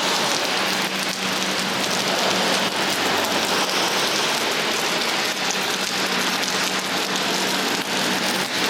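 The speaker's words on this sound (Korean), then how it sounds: "지금 폭우가 쏟아지고 있어요" A heavy downpour beats down outside an apartment complex, a dense, loud, unbroken hiss of rain with scattered sharper drops striking nearby surfaces.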